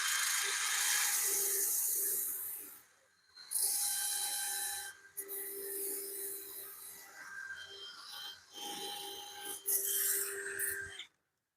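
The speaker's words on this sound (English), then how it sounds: "So we'll get a little sanding going here." Abrasive sanding on a wooden bowl spinning on a woodturning lathe gives a steady close hiss and rasp with a faint motor whine, pausing briefly around the third and fifth seconds before continuing.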